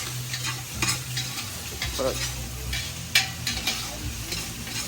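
Food sizzles steadily in a hot pan while cooking, with scraping and stirring strokes from a utensil breaking through the constant frying hiss.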